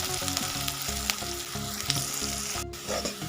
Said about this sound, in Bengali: পেঁয়াজটা আমার বেরেস্তা করা শেষ।